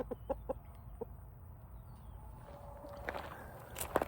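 Chickens cluck in short scattered bursts outdoors, near and fairly quiet, with rustling and footstep-like scuffs between calls and a louder cluster near the end.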